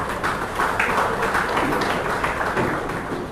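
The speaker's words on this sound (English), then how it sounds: "Can we give him a round of applause," Steady applause from the audience at the opening ceremony of the GFDC Football Summit 2024, a dense wash of clapping that holds at an even level for several seconds without a break.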